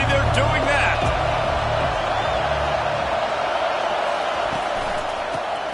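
Crowd noise at a Texas A&M football game fills the stadium as a steady, loud roar of cheering, with a commentator talking over it.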